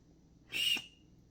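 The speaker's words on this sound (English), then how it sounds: "We got another whistle on the keychain." A keychain whistle from a 21-piece survival kit gives one short, shrill blast of about a quarter second, sharp and fairly close against a quiet background.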